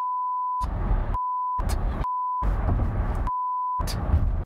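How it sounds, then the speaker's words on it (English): A car alarm at a service station beeps in a steady repeating pattern, a clean tone alternating with bursts of loud rumbling noise, close and insistent. "But Scott was having some trouble with his alarm."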